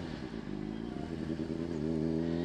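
A motorcycle rides through downtown, its engine rumbling steadily and then revving higher and louder toward the end, heard close up.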